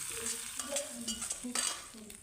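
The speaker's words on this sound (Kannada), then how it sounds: "ಈಗ ಕುದೀತಾ ಇರುವಂಥ ಸಾಂಬಾರಿಗೆ ಒಗ್ಗರಣೆಯನ್ನು ಹಾಕೊಂಡ್ಬಿಟ್ರೆ ಆಯಿತು" Hot tempering hits a pot of boiling thin sambar with a quick burst of sizzling and spluttering, close and fairly loud, fading over about two seconds.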